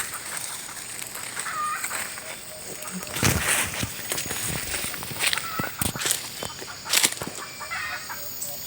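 Hens cluck intermittently amid rustling and footsteps, with occasional sharper bursts of noise and some voices nearby.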